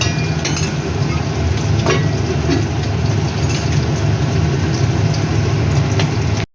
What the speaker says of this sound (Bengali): মাছের ঝোলটা টকবক করে ফুটছে